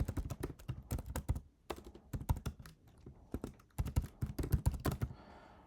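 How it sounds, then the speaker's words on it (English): An email address is typed on a computer keyboard in quick, close clusters of crisp key clicks separated by short pauses. "So I'm going to type in now my email address."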